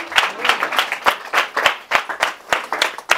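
A church congregation claps during a Sunday sermon, producing loud, close, rhythmic unison claps at a quick, even pace with no pauses.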